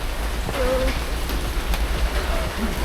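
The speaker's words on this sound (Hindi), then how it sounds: "बारिश हो रही है," Steady rain falls at Gilimanuk ferry harbor, where cars board the ferry to Ketapang. The wet hiss is continuous and fairly loud, with faint background sounds underneath.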